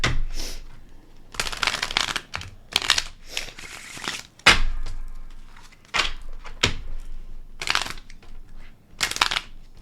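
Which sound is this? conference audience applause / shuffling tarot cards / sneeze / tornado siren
shuffling tarot cards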